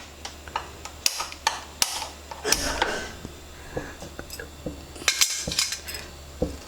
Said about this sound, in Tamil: இப்போ கேஸ் பற்ற விட்ற பாருங்கள்.